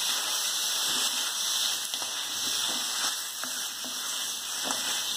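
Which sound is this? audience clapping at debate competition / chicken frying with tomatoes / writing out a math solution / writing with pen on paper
chicken frying with tomatoes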